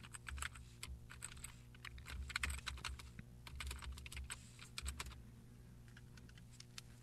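Code is typed on a computer keyboard in close, quick, uneven bursts of clicking keys over a low electrical hum, with short pauses between runs.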